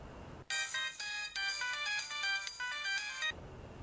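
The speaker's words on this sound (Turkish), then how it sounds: "Aç şu telefonu anne aç." A phone ringtone plays loudly and alone, a bright repeating electronic melody in several short phrases, starting abruptly and stopping after about three seconds.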